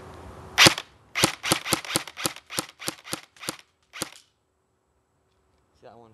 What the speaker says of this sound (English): So I'm just gonna blow off a couple shots for you.